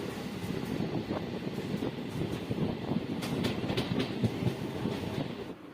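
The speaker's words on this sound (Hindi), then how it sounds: "दरौली से निकलने के कुछ समय बाद ही हमारी ट्रेन अपनी रफ्तार में पकड़ ली" A passenger train running at speed between Dildarnagar, Zamania and Mughalsarai, heard from aboard as a steady loud rumble with rhythmic clickety-clack of wheels on rail joints throughout.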